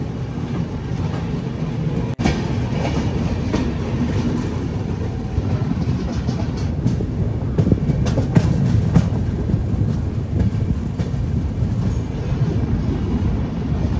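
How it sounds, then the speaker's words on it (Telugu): Steady low rumble and rattle of the Ayodhya Cantt–Rameswaram passenger train rolling along the rails at Nagpur Junction, continuous and fairly loud throughout, with no voices. "అయోధ్య క్యాంట్ నుంచి రామేశ్వరం వెళ్తున్న ట్రైన్ ఇది. ఇప్పుడే నాగ్పూర్ జంక్షన్కి రీచ్ అయింది."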